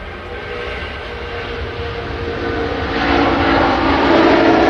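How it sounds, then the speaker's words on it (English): An Airbus A330 airliner departs Manchester Airport, its jet engines a broad, steady roar that swells gradually louder as the aircraft takes off in the distance. "A330 now departing off to 3 right."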